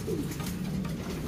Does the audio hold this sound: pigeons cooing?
yes